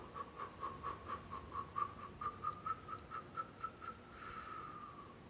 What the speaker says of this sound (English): I'm even making a little whistle, not intending to whistle